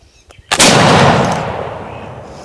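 One loud, close boom from a flintlock smoothbore musket firing a heavy powder load, sharp at the start and then decaying slowly over about two seconds, with faint sounds just before it.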